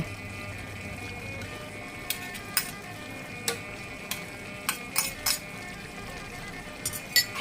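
Chicken and giblets stir-fried with dark soy sauce in a wok for Thai chili-ginger stir-fry, a steady sizzle under repeated metal clinks and scrapes of a spatula against the pan at an irregular pace.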